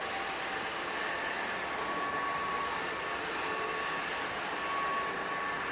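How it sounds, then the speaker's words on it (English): A UWANT D800 wet dry vacuum cleaner in smart mode sucking up spilled milk gives a steady, loud, unbroken airy whine that holds level from start to end, with no talking. "We're gonna do something very liquidy like milk. And once again, we're gonna do this in the smart mode."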